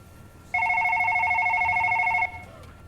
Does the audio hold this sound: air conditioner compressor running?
no